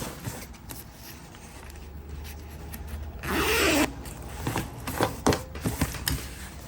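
An invisible zip on a sewn garment is pulled up in one quick, close rasping stroke of under a second, surrounded by quiet fabric handling and small clicks.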